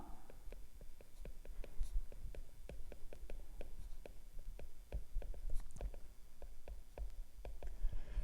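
Chalk or marker tapping and stroking on a classroom board during a history lesson, a steady run of short, evenly spaced taps over quiet room tone.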